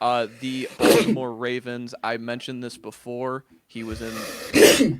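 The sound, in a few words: sneeze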